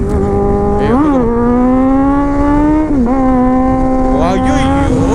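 A Kawasaki Z800 motorcycle engine revs hard and close, its loud, steady drone climbing in pitch and dropping briefly at each gear change as it accelerates.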